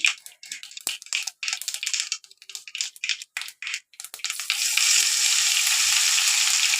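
Crackling bursts of stirring give way to a steady, loud sizzle as crushed ginger and garlic hit hot oil in a pan.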